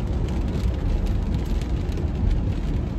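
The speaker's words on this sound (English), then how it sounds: "As you can see, it is raining." Steady rain falls on a city street on a Tuesday morning, a dense, even patter with low traffic rumble underneath, continuous and fairly close throughout with no talking.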